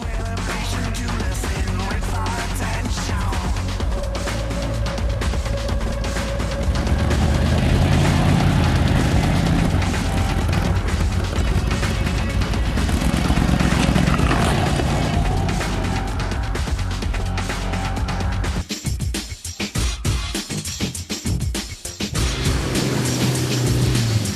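Rally car engine driving through forest during a long-distance rally beyond the Arctic Circle, a loud continuous roar with rising revs and rough road noise, cutting briefly before resuming.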